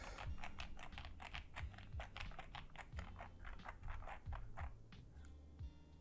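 Rapid, clicky keystrokes on a Feker JJK84 mechanical keyboard, a fast continuous run of crisp taps with deeper thocks, close up and without voices.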